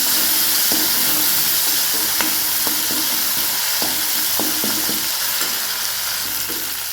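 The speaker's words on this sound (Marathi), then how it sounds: "आपलं तेल गरम झालेलं आहे. आपण त्याच्यामध्ये ठेचलेला हिरवी मिरची आणि लसूण टाकूया." Crushed green chilli and garlic frying in hot oil for a Marathi dry shengdya (flat bean) dish, giving a steady loud sizzle with scattered sharp stirring clicks throughout, no talking.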